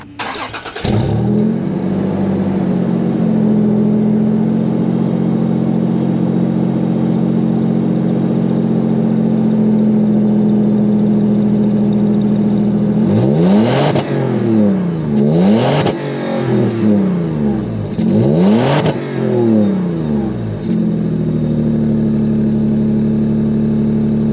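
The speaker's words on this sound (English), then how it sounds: "improved exhaust, sounds better than 4Runner, it's just a little bit droning to me on the highway" A fifth-generation Toyota 4Runner with an improved exhaust drones steadily at highway speed, a loud, constant low engine hum broken by a few brief whooshing swells of passing traffic.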